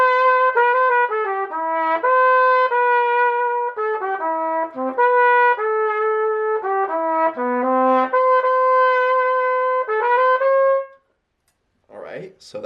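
A solo trumpet plays a lyrical phrase of a song, clear and close with sustained notes and short breaks, then stops and a brief bit of speech follows.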